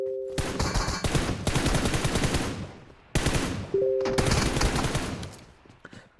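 Automatic weapon fire in the PUBG Mobile video game, two long bursts of rapid shots with a short gap between them and brief tonal beeps near the start of each burst.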